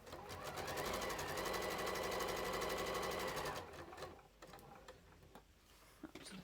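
A sewing machine runs steadily, stitching through soft AGF fabric on a project bag, with a fast even rhythm of needle strokes for several seconds before stopping, followed by faint handling clicks.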